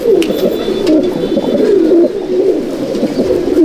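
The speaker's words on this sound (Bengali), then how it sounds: "এই একটা পায়রা ডাকলো" A red-flower Malwai pigeon, a champion flying breed, coos loudly and close in a repeated rolling rhythm, calling several times in a row with little else around.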